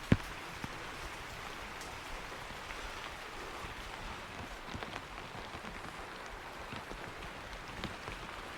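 Steady rain falls across an outdoor mountain setting near Mukteshwar, a dense even hiss of drops on surfaces that holds at a constant level throughout, with one sharp knock near the start and no voices.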